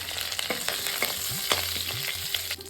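Curry leaves and asafoetida frying in hot oil for a Tamil okra tamarind curry, a steady close sizzle with crackles and scattered stirring scrapes, no voices.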